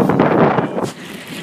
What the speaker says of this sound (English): Nice wind.